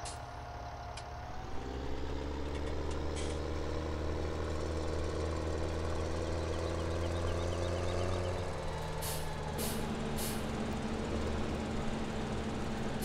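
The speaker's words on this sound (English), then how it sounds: "I'm gonna hire that out and grab my tractor." Tractor engine in the Farming Simulator 17 video game, a steady low idling drone with a rising pitch shift midway and a few faint clicks above, heard alone without talk.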